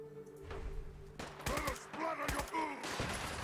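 Gunfire in Fallout 4: a burst of sharp, rapid shots cracks out over a low hum, under and between bits of speech.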